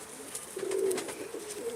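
A pigeon gives a single soft, low coo lasting about a second, close by and fairly quiet, with no talking.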